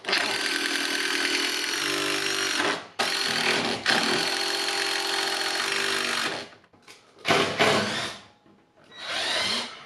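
A power drill drives screws into a butcher block countertop for a DIY kitchen island. Loud, close whirring comes in long sustained runs, broken by brief pauses and a few shorter bursts near the end.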